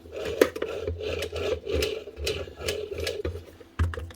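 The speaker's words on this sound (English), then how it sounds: "Hear that clicking sound?" A faulty power tool armature clicks in a repeating, mechanical rhythm, a run of sharp ticks over a low whirring hum, close by and fairly loud, with no talk over it.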